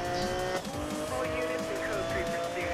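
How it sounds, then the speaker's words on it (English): Racing game audio of a yellow Lamborghini Aventador in Need for Speed: Most Wanted, a steady loud engine drone with tire squeal and skidding throughout, under a voice speaking over it. "I'm gonna do one of the Most Wanted races in a yellow Aventador."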